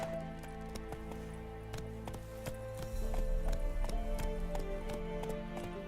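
Roach the horse's hooves clopping in The Witcher 3, a steady rhythmic clip-clop over game music and ambience, growing louder and busier in the second half.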